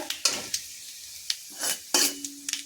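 Panch phoron spices with chilli and bay leaf sizzle in a pan for a vegetarian cabbage ghonto while a spoon stirs in sharp scraping strokes, quiet and close with no talk.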